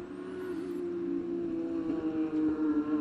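A Porsche GT3 Cup race car on Yokohama tyres at Watkins Glen holds a steady, sustained engine drone at racing pace, a loud continuous hum with a slight swell toward the end and no talk over it.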